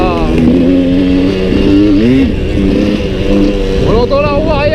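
Suzuki 125 TSR trail motorcycle ridden on an off-road mountain pass track, its engine droning steadily throughout while someone talks over it.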